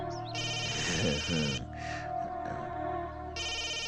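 A phone rings with an incoming call, a sustained electronic ringtone pulsing in long bursts with brief gaps, while a voice speaks faintly underneath.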